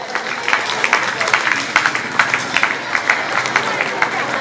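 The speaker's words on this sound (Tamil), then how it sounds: "மாணவர்களை நாம் கைத்தட்டி உற்சாகப்படுத்துவோம்" An audience claps to encourage students at a church Sunday class farewell event, with dense, steady applause and scattered louder claps continuing throughout, crowd murmur beneath.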